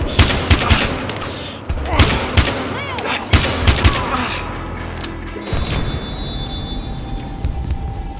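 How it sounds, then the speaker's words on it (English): Rapid bursts of gunfire in the tactical shooter video game Evidence, several loud volleys in quick succession with booming impacts over a few seconds, then a quieter stretch with a faint ringing tone and distant voices. "13 reporting shots fired."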